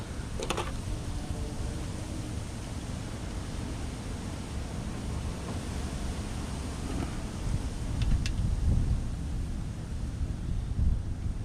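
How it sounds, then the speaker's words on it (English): Steady wind gusts outdoors during a small 2-stroke 49cc–80cc engine carburetor install, a continuous broadband rush that swells louder near the end, with a couple of faint brief clicks and no talk. "Wind is picking up."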